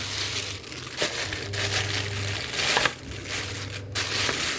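Bhola fish pieces poured out in a kitchen, giving a steady close crinkling and rustling like plastic or wrapping being handled, with a few sharper crunches over a low background hum; no speech.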